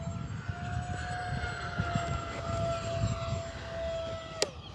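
An E-flite A-10 RC jet with twin 64mm electric ducted fans whines as it heads down the runway, a steady high-pitched fan tone over soft rumble, fading slightly near the end.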